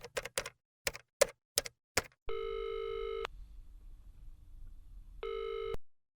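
A telephone call is placed: several sharp clicks of dialling, then a steady tone plays for about a second, stops, and returns briefly before cutting off, with no talk.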